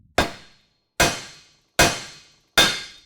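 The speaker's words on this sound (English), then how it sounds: "I like to use a block of wood, and we're going to drive that in forcefully" A hammer driving a bushing in through a block of wood during a gooseneck hitch installation, four evenly spaced sharp knocks with short ringing decay, close and loud, no talking.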